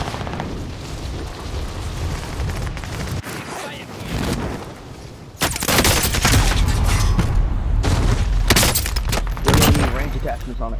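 Rapid hit-scan weapon fire in a first-person shooter video game, bursts of sharp gunshots cracking loudly in repeated clusters over a dense game soundscape, with a person talking over the action.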